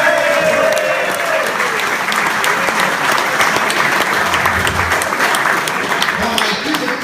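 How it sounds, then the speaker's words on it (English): A large audience claps loudly and continuously at a comedy show, a dense roar of applause with some cheering mixed in, holding at full strength from start to finish. "Big applause please for Wilbur Jake and his 7 children"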